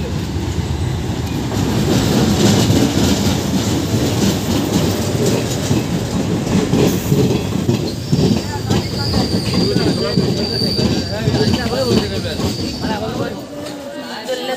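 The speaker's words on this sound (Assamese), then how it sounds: "অৱশেষত ট্ৰেইন আহি পালেহি শিৱসাগৰলৈ যাবলৈ" A passenger train pulls into a station on the way to Sivasagar, wheels squealing and rolling with clickety-clack under loud platform bustle, while people talk nearby.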